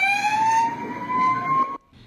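An ambulance siren, on a vehicle driven from a Kaohsiung hospital emergency entrance toward Kaohsiung Port, wails loudly in one long rising sweep over engine and traffic rumble, then cuts off abruptly near the end.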